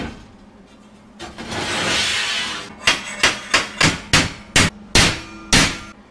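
Eight sharp, evenly spaced hammer taps ring out close and loud, following a brief grinding whoosh, as a steel piece is knocked into place during the build of a stump bucket attachment for a Bobcat 743 loader.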